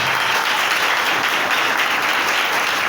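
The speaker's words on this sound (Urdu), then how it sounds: "آئیے اب یہ تالیاں خدا یسوع کے لیے بجائیں" Dense, even applause from a church congregation, many hands clapping together in a sustained, fairly loud wash for a few seconds with no voices on top.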